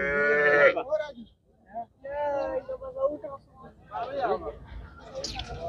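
Cattle lowing at a crowded livestock market in Sylhet ahead of Qurbani, with a long deep moo near the start and further calls breaking through amid market chatter and voices.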